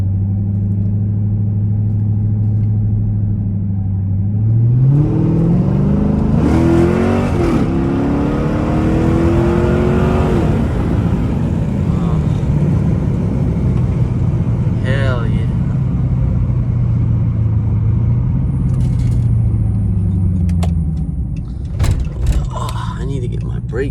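A loud Dodge Charger Pursuit engine with its muffler removed rises in a long rough rev, holds a throaty drone, then eases off, with a voice talking over it.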